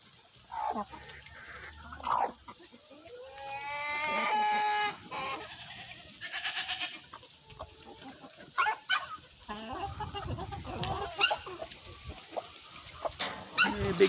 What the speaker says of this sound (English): that's a unique breed of chicken called a turkin